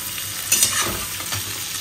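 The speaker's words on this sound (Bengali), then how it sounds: "আর এখানে কপি ভাজা হচ্ছে" Cauliflower frying in a pan at a home kitchen, a soft continuous sizzle with a few brief stirring scrapes, close and alone without talk.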